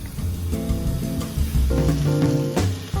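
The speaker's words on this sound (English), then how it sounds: "With the noodles in the frying pan, you just want to make sure everything is mixed up" Spicy noodles sizzle in a hot frying pan while being stirred, with scraping and clattering utensil sounds over a continuous frying hiss.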